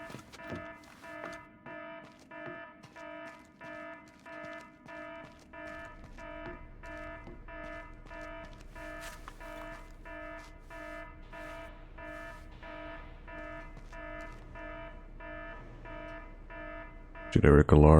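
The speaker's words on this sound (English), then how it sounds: "Generic alarm, hear it in most." A generic repeating electronic alarm tone blares in Splinter Cell: Chaos Theory, pulsing steadily and rapidly throughout with a harsh buzzing quality, a low rumble joining midway and a loud burst near the end.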